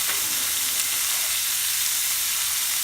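Top sirloin steak frying in a pan with garlic and butter, giving a loud, continuous hissing sizzle with faint crackles throughout and no voices.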